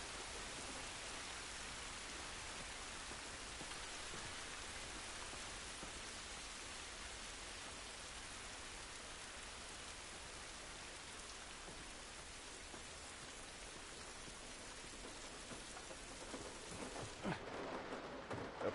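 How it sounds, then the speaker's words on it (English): Steady rain falls outdoors, a dense even hiss of drops on surfaces that holds for the whole stretch, with a few louder close patters near the end. "It's raining, but I think it's gonna be good."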